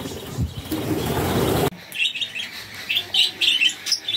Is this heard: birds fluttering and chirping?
yes